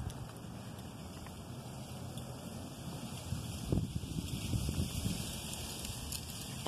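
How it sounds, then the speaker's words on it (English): Strong gusty wind buffets a microphone outdoors, a steady low rumble that swells louder for a few seconds near the middle, with no voices. "Sorry about the wind."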